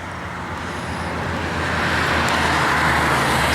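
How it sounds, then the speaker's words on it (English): Street traffic heard from inside a moving Tesla Model S: a dense, steady roar of road and tire noise that swells gradually louder, with no talk over it. "traffic here out on the street."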